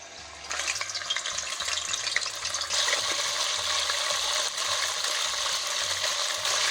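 Beef chunks browning in a pot for plov, a steady crackling sizzle that stays loud and close throughout, swelling a little partway in, with no voices.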